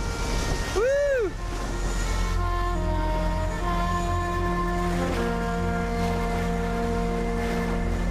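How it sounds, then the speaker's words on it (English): Wind and water rush steadily around the wooden ketch Manuska, self-built by a local sailor, as it sails across Lake Te Anau, with a loud close wash mixed with tonal hums and a brief whistling sweep near the start. "I'm traveling to the trailhead in the wooden ketch Manuska"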